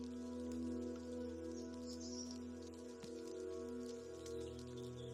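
Steady rain falls on wet soil outdoors, a soft continuous patter with scattered nearer drops over a low background hum, moderately quiet throughout and with no voices.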